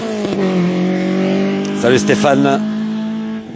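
Race car engines droning steadily at the Pourville-sur-Mer hill climb in France, with a louder burst of revving partway through, heard beneath close, continuous French talk.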